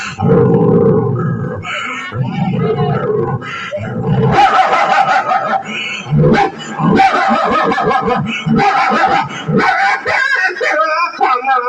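A voice imitates two dogs fighting, with snarling growls, barks and rough roars tumbling over each other, loud and close.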